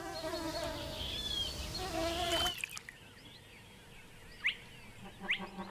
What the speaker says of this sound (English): Flies are also thirsty in weather like this, much to the delight of the young frogs.